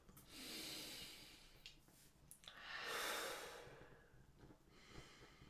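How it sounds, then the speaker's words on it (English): Slow, deep breathing, two long drawn breaths, each rising and falling, with a shorter breath between them, soft and close in a quiet room. "breathing into it with a slow, deep breath"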